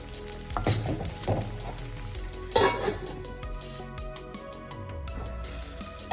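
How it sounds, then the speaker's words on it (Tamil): Boiled chickpeas fry and sizzle in oil in a pan for sundal kulambu, with a steady crackle and occasional stirring clinks and scrapes of a utensil against the pan. "நம்ம வேக வச்சு எடுத்து வச்சனால கொஞ்சம் எண்ணெயில் ஒரு 2 நிமிஷம் வணங்கணும்"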